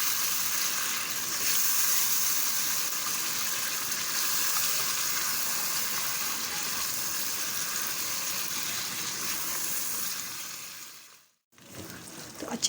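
Goat trotters coated in masala frying in a pan for paya, a dense, steady sizzle heard up close that fades briefly near the end before returning.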